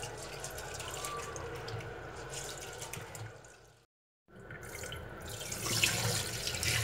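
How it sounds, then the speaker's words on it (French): Rice or similar food being rinsed under a running kitchen tap to wash off excess starch, a steady close splashing of water into a sink that cuts out briefly midway and then resumes, with no voices. "Donc on le rince à 3 reprises, surtout pour enlever l'excès d'amidon."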